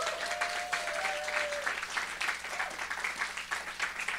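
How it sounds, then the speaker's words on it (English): Audience at a live research event applauds a speaker taking the stage, with steady, dense clapping from a sizable crowd and a faint tone gliding through the first seconds. "Can we get a warm round of applause for Megan?"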